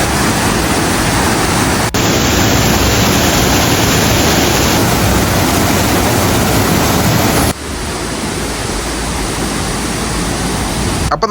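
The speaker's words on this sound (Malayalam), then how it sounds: "ഈ വാട്ടർഫോൾസിന്റെ സൗണ്ട് ഞാൻ കേൾപ്പിച്ചുതരാം" Blackling Falls: a powerful, continuous rush of falling water, loud and near, unbroken for the whole stretch with no voices.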